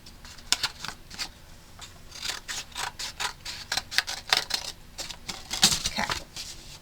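A scrap piece of paper being trimmed by hand, close up, with a steady run of quick crisp snips and rustles for several seconds and no talking.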